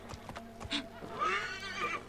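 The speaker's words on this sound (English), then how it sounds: "Oh, you can call your horse in this." A horse neighs after being called in the Assassin's Creed Origins video game, a loud whinny with a few soft hoof clip-clops just before it, close and clear over faint game ambience.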